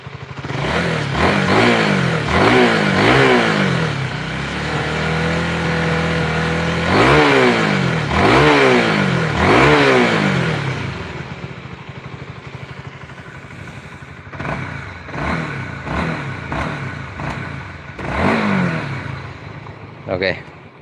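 A Honda CBR motorcycle engine revs up repeatedly in sharp bursts, each rising then falling, loud and close, with steady idling between the throttle blips.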